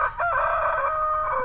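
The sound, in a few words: rooster crowing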